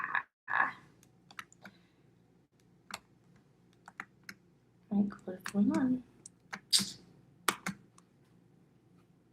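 Clicky typing on a computer keyboard comes in scattered bursts of keystrokes with pauses between them, close by, while a voice speaks briefly over it.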